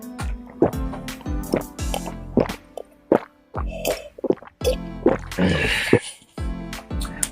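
Someone gulps water from a container, a close run of wet sips and swallows in a rough repeating rhythm with sloshing in between.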